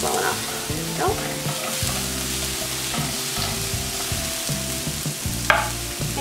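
Half a diced white onion sizzles and crackles in a pan, with steady frying and intermittent scraping stirs close up, and no talking.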